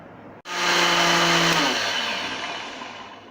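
An electric grinder pulverizing roasted spices into chaat masala powder switches on abruptly, then gives a loud, steady whirring roar close by that eases off slightly toward the end, with no talking.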